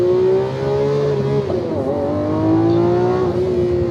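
A Lamborghini Aventador Ultimae V12 revs loudly through gear changes, its harmonic engine note climbing, dipping sharply at a shift around the middle, then climbing again, close and prominent with faint voices.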